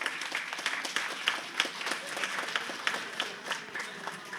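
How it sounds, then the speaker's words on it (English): An audience at a G20 event applauds for Prime Minister Narendra Modi, a crowd clapping with scattered sharper individual claps, moderately quiet and a little distant, continuous across the few seconds. "Please give a huge round of applause for our Honorable Prime Minister, Mr. Narender Modi."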